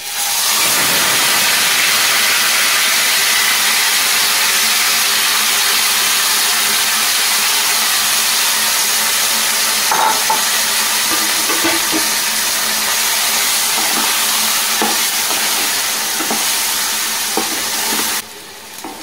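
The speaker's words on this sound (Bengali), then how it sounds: "তেলের কাঁচা গন্ধ চলে গেলে আমি ম্যারিনেট করা চিকেনটা দিয়ে দেবো" Marinated chicken sizzles steadily in hot oil in a pan, a loud, continuous frying hiss with a few soft stirring knocks late on and no talking.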